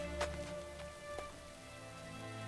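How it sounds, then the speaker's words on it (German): Steady rain falls in the video game Assassin's Creed III, a soft continuous patter with a few sharper drops near the start. No voices are heard. "Na, es fängt natürlich, fängt es an zu regnen."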